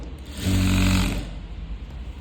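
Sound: sewing machine stitching a churidar neck

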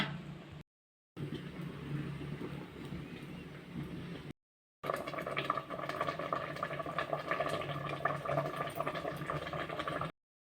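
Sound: water boiling in pot for fish curry

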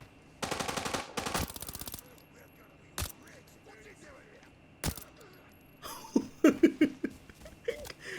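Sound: gunfire in the video game Arena Breakout

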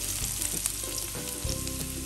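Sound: garlic and ginger sautéing in oil

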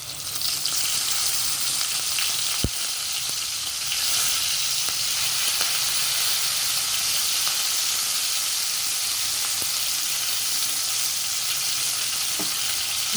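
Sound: curry leaves with coriander powder and garam masala frying in oil

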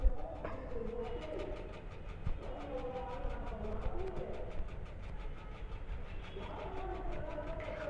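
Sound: Indian train crossing at a junction in a train video game

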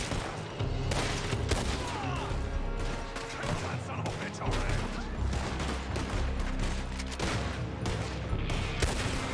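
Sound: gunshots in the video game Red Dead Redemption 2

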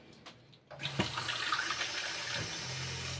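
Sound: pouring a cup of water into a cleaning mixture

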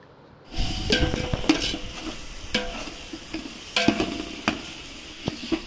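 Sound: sautéing chopped mint with ginger-garlic paste in a pan

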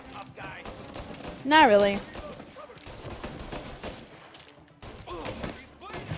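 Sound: gunfire from the other gun in the video game Mafia

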